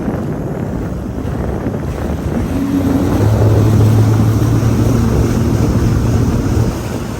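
Sea-Doo personal watercraft, an RXT, GTX or RXP-X with 300 or 325 engine during break-in, running steadily on open water, its loud engine drone rising in pitch midway amid heavy wind buffeting on the microphone.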